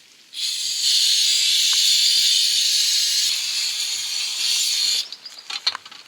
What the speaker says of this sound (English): Clean the flywheel with brake cleaner.